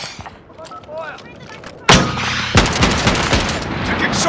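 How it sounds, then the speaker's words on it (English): Gunfire in the Warzone video game: a quiet stretch with faint chirps, then a loud blast, followed by a dense burst of rapid automatic shots close by. "Taking shots over here."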